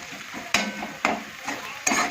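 Onions frying in a pan for a homemade onion-tomato chutney, a steady close sizzle broken by three sharp stirring scrapes spaced roughly half a second to a second apart, with no voices.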